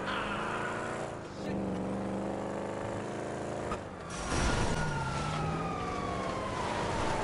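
A police siren from the GTA 5 video game wails with rising and falling sweeps over engine and traffic noise, growing stronger in the second half.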